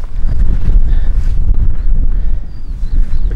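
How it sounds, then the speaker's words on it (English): Strong wind blows across a hilltop near North Hessary Tor on Dartmoor on a hot summer day, buffeting the microphone with a loud, continuous low roar that rises and falls in gusts. "but it's very windy up here."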